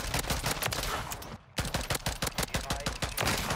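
Rapid automatic gunfire from an online shooter match in Modern Warfare 3, loud repeated bursts with a brief pause midway before the shots resume steadily.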